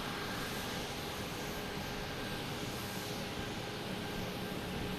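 A jet airliner takes off at Boston Logan Airport in the evening, its engines giving a steady, broad roar that holds at a fairly even level throughout with no voices.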